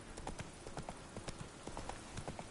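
Roach, the horse in the video game Witcher 3, gallops with a steady, rapid clip-clop of hooves, loud and close throughout, with no talking over it.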